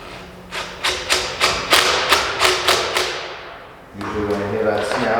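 Impact wrench tightening a 1.25 to 1.5 inch fitting with a rubber gasket, a rapid series of about nine hammering bursts, then a pause and a lower mechanical whir, close and loud.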